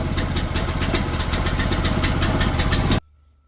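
Small 420cc engine swapped into an 1987 Oldsmobile Cutlass Cruiser wagon runs steadily with a loud, rough, throbbing idle up close, then cuts off abruptly into near silence.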